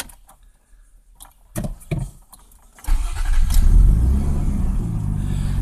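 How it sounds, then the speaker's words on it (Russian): A Mazda Xedos 2.0 V6 engine cranks and catches after some clicks and knocks, then settles into a loud, steady rumble close by that keeps running. "хоть они и дороже в обслуживании, но звук мотора мне нравится."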